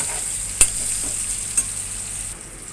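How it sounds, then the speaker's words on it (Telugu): Raw banana pieces deep-frying in oil give a steady, close sizzle with a couple of faint stirring clicks, and no one speaks. "ఈ విధంగా అరటికాయ వేసిన తర్వాత ఆయిల్ లో డీప్ ఫ్రై చేద్దాం వేయించుకుందాం"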